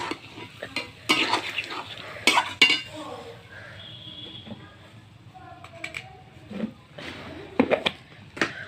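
Chicken curry stirred and sautéed in a pot with ground coriander, a spoon scraping and clinking in bursts over a soft sizzle, with a voice talking at times.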